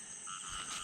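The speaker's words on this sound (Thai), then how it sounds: "โอ้ มีกบอยู่บันไดอะ" A frog on a stairway croaks in the rain, a brief, faint tonal call over a steady wash of rainfall.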